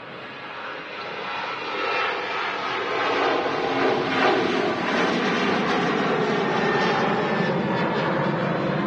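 A KLM airliner rolls down runway 23 right at Manchester Airport on departure for Amsterdam, its jet engines a steady, loud, broadband roar that swells slightly and holds throughout with no talk.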